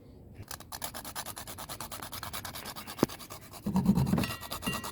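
Nutmeg is grated by hand on an ordinary kitchen grater. Quick, steady rasping strokes repeat close to the listener and grow louder and coarser toward the end, with no talking.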